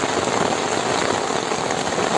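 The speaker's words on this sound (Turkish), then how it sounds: "Çok fena yağmur başladı." Heavy rain pours steadily during a trip through Çanakkale, Turkey, a dense, unbroken roar of drops hitting surfaces nearby, loud and constant with no voices.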